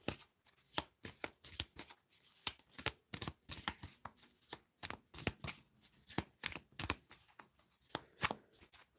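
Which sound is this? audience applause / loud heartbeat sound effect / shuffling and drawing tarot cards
shuffling and drawing tarot cards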